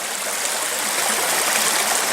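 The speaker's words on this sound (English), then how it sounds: "Water's running this way." A stream in Red River Gorge runs steadily near two joining rivers, a dense, loud rush of flowing water filling the scene without voices.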